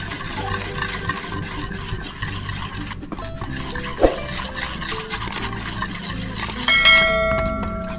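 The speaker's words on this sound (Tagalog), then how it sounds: "Haluin lang natin." A flour and cornstarch coating mixture for crispy chicken intestines is stirred in a metal bowl. The scraping is close and continuous, with a few light metallic clinks, and no talk is heard.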